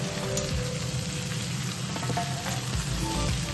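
Nine kinds of vegetables frying together in a pan for navaratna khichuri, a steady close sizzle and crackle with faint stirring and no voices.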